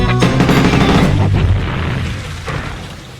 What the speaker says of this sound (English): We need a good explosion in this song.